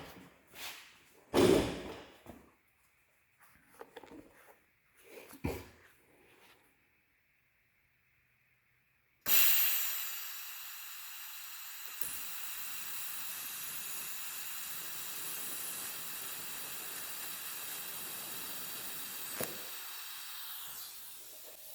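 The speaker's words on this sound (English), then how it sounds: "We're going to tack weld this first and then take it over and make sure it fits." TIG tack welding on metal pieces for a Jeep JL dash accessory rail: a few sharp clicks and short bursts, then a steady close hiss of the arc running for many seconds with a couple of brief pops.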